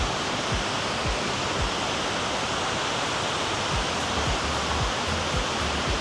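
A freshly renovated waterfall at a San Antonio landmark pours in a loud, steady broadband rush that fills the whole clip, with faint low thumps and no voices.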